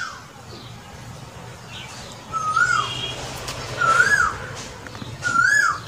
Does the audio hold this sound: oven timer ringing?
no